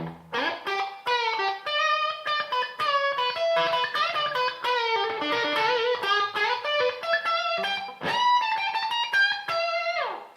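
An electric guitar through a Boss Metal Zone distortion pedal plays a quick melodic phrase, notes buzzing and sustaining with a thick, nasal, overdriven tone, loud and close.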